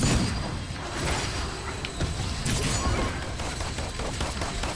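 Dense rapid gunfire from a video game crackles continuously, loud and busy, with sharp bursts layered over one another.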